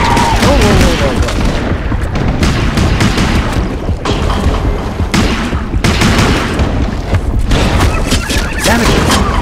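Gunfire from the underwater shooter game Depth comes as loud, dense bursts of booming shots and rapid fusillades, with a few brief gaps and a voice speaking now and then.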